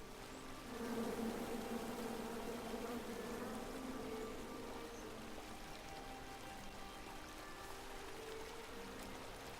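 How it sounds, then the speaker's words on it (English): Angry bees swarming in the King's Quest video game, a steady, dense buzzing drone that holds at a fairly even level for the whole stretch, with no voices over it. "Come at me, bees!"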